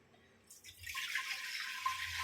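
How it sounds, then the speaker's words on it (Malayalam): Water is poured into a pot set on a hearth for Attukal Pongala, a soft trickling splash that starts after a brief quiet and keeps going, faint and close, with no talk. "ഇനിയിപ്പോൾ ഇതിലേക്ക് ആവശ്യമുള്ള വെള്ളം ഒഴിച്ചു കൊടുക്കാം"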